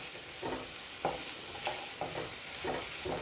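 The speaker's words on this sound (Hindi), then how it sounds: "There goes my finely chopped onion. You hear that sizzling?" Finely chopped onion sizzling in a hot frying pan, a steady crackling hiss with soft rhythmic scrapes from stirring every half second or so, close and moderately quiet with no talking.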